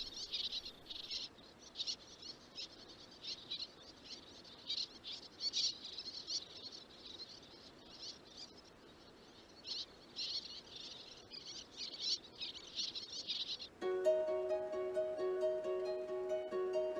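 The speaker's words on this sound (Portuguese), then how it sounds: "A cria que escapou ilesa ao raid das gaivotas apressa-se agora a chamar pelos progenitores" A bird chick in the Ria Formosa lagoon calls for its parents after a gull raid, with thin, repeated high chirps over a steady insect-like hiss. Near the end, a sustained tonal sound takes over.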